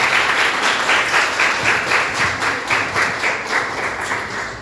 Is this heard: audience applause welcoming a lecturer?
yes